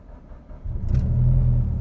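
2011 Mitsubishi Evo X GSR with a flex fuel tune cranks briefly and then fires up, the engine catching with a loud, close rumble that settles into a steady idle.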